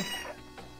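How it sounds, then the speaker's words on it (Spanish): A cat in the video game Nuclear Blaze gives a short meow, brief and moderately loud over a noisy game background. "¡Sí, Gotito. sí gatito"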